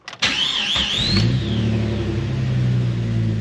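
A car engine cranks briefly and catches after an oil change, then settles into a steady, close idling rumble.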